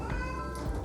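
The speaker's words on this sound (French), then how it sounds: "on a pas mal des chats timides ces temps-ci" A cat meows in a shelter cattery, one short clear call with a tonal, harmonic whine, close and fairly loud over a low background hum.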